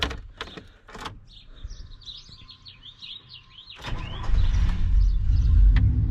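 A pickup truck engine cranks and fires up, settling into a loud, deep idling rumble, with faint bird chirps in the background before it starts.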